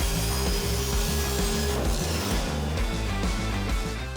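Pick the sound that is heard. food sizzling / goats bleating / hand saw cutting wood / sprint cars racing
hand saw cutting wood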